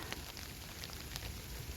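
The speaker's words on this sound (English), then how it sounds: "Yes, it is raining on us right now." Light rain falls steadily across a garden in late September, a soft, even patter with faint drop ticks, quiet and continuous with no talking.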